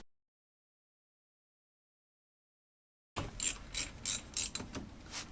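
After three seconds of silence, a tool loosens the brake caliper hanger pins on a Harley-Davidson with a run of close, rapid ratcheting clicks in short bursts.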